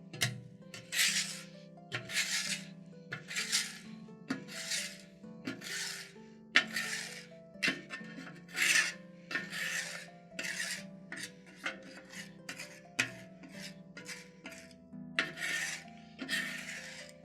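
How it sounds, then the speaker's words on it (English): A metal scraper rasps across a cold, rusty griddle top in steady repeated strokes, about a dozen loud scrapes with short pauses between them, close up and with no talking. "with the griddle cold, we're just gonna give it a good scraping"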